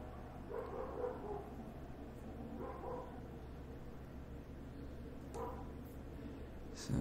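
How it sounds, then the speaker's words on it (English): Dogs barking in neighbours' backyards, distant and faint, several yelping bursts scattered across a steady low outdoor hum. "it sounds like the dogs in other people's backyards are going berserk"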